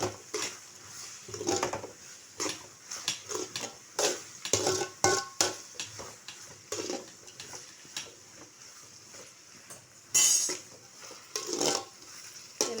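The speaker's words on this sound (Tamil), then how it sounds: "இந்த வெங்காயம் இன்னும் நல்லா திவங்கணும்" Onions sauté in a pan for a mochai curry, heard as soft sizzling broken by repeated stirring scrapes and clinks of utensil on metal, in irregular bursts with no talk.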